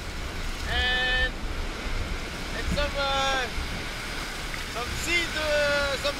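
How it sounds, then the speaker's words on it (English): Ocean waves and wind surround a Volvo Ocean Race sailing boat in the Roaring Forties, a steady washing rush under several rising and falling whistling cries. "It's a bit windy with some waves"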